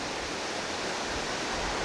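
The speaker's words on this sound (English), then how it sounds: "We're now on the side of the road by a beautiful stream, getting a shot of that waterfall" A waterfall pours into a roadside stream in Glacier Park, a steady, loud, broadband rush of falling water that stays constant throughout with no voices.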